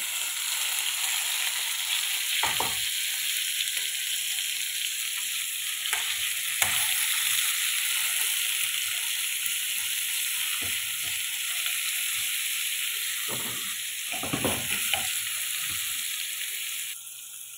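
Shrimp sizzling in garlic butter in a hot pan, a steady loud frying hiss throughout with occasional stirring scrapes and clinks, no talking.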